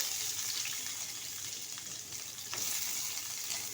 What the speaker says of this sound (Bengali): এখন দিয়ে দেবো কিছুটা কুচিয়ে রাখা পেঁয়াজ।